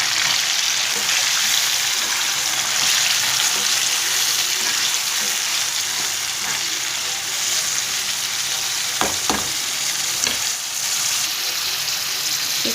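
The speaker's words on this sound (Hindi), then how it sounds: "सबसे पहले मैं गाजर को फ्राई करूँगी" Carrots fry in a pan with salt in a loud, continuous sizzle and a few faint stirring knocks near the end.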